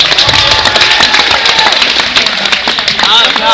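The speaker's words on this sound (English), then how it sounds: "Give these guys a big hand clap." A school audience claps loudly for a performing strength team, with crisp hand claps close by over a crowd and voices talking through it.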